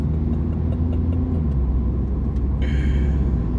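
Steady low rumble of a 2020 Mini Clubman JCW driving on city roads in Sydney, a continuous mid-level engine drone with a slight rise in pitch near the end, heard from inside the car.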